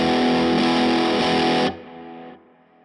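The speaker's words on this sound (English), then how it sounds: "We got the DS1 distortion type with distortion set down to 0." Electric guitar run through the DS1 distortion type of a Fractal Audio Axe-FX III drive block, with the distortion control at zero yet still gritty: a loud sustained distorted chord that cuts off sharply, leaving a quieter ringing tail that drops again.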